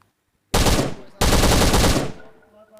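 Gunfire in Last Island of Survival: two loud, close bursts of rapid automatic fire after a short silence, the second longer and trailing off into echo.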